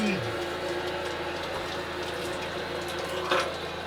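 Water runs steadily from a tap aboard a sailboat, a faint continuous hiss and splash with a brief louder gush near the end.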